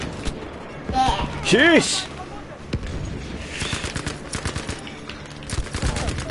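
Machine gun fire in a war video game, bursts of rapid shots running through the clip beneath an excited voice and other game noise.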